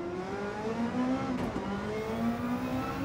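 Lexus RC F GT500 race car in Gran Turismo 7 at the Nürburgring GP, its engine revving and rising through the gears at steady high volume with a brief shift dip midway.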